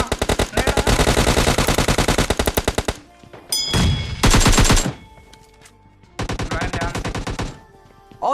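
PUBG Mobile Lite gunfire: loud, rapid automatic bursts in several long strings, separated by short gaps and a few single reports.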